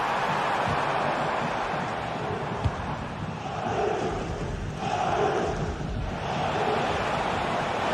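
Stadium crowd roar in a football video game, a steady broad wash of cheering that swells slightly midway, with no commentary in this stretch.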